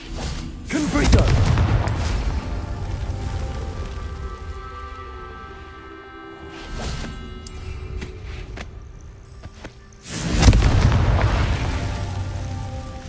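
Confringo fire spell blasts in Hogwarts Legacy, two heavy booming explosions several seconds apart, each with a crackling rumbling tail that fades under steady background game ambience.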